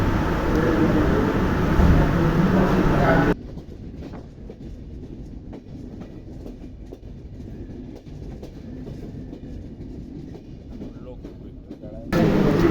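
A train travelling from Khulna to Dhaka rumbles along with a continuous rhythmic clickety-clack, loud and open at the start and end and more muffled through the middle.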